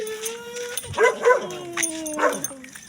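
A dog gives a few short yips and barks close by, mixed with whiny whimpering tones.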